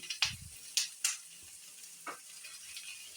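Sliced big onions and tomato sautéing in a pan for a fish curry, a quiet low sizzle broken by a few sharp clicks and scrapes of a spatula, with no voices.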